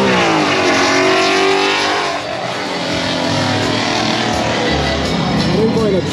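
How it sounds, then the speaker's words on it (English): A Dodge Durango SRT Hellcat at a Houston car meet roars loud and close, its engine revving hard and sustained with a rising, growling tone, under excited talk from onlookers. "That's that SRT Hellcat Durango."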